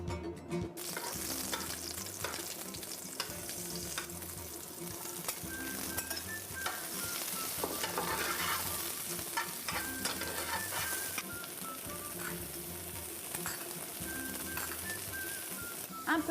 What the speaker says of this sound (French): Je vais poêler les légumes avec un peu d'huile d'olive